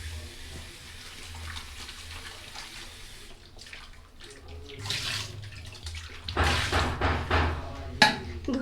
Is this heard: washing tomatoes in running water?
yes